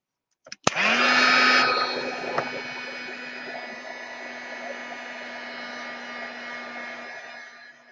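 An electric hair dryer switches on and blows steadily to dry rice paper on an art journal page, a loud continuous whoosh with a steady hum that eases off slightly after the first second and runs alone.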